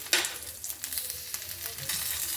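Curry leaves, green chillies and garlic frying in a pan, a close crackling sizzle with a sharp burst at the start and scattered pops and stirring scrapes, with no talking.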